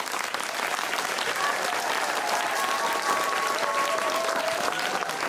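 Sustained, even applause from a school audience at a Hindi poetry gathering (kavi sammelan), dense clapping filling the space at steady loudness with faint voices mixed in.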